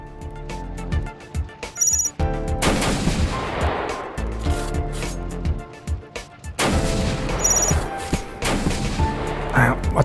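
Video game gunfire from Beyond Citadel: heavy, booming shots and rapid bursts layered with explosive crashes and electronic game tones, loud and dense, with occasional speech mixed in.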